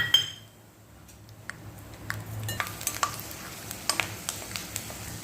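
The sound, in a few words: peanuts frying in oil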